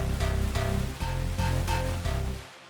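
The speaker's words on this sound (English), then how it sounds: "So really, really aggressive and sick bass." A loud, aggressive signature synth bass line plays alone in dense rhythmic bursts, with a heavy low end and bright upper harmonics, and it cuts off sharply near the end.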